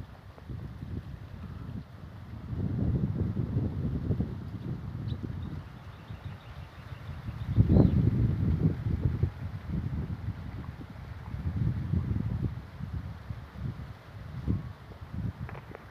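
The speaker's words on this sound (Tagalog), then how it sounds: "Napakasarap dito ng simoy ng hangin." Outdoor breeze blowing across a farm field in the Philippine countryside, a steady low rumbling wind noise buffeting the microphone in rising and falling gusts, with one stronger swell midway and no talking.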